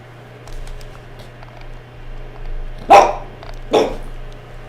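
A pet dog barks twice, loud and close, over the low hum of a televised Villarreal vs Juventus football match playing in the room.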